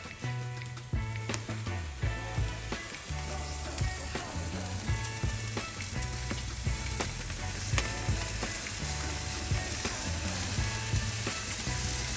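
Pork ribs topped with sliced lemon sizzle on an Argentine asado grill, a steady crackling hiss that runs the whole time beneath louder background music with a thumping low beat.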